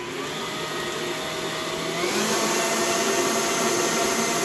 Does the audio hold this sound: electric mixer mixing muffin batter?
yes